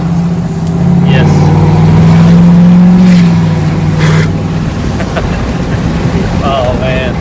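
A loud deleted 2020 Ford Tremor Powerstroke diesel truck gives a deep, rumbling drone that swells for a few seconds and then fades, with people talking over and after it.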